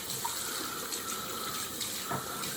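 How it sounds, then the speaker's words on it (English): Tap water runs in a steady, soft hiss to rinse a freshly shaved head after a straight-razor shave, fairly quiet and continuous with no talking. "let's give that a wash down and see how we did."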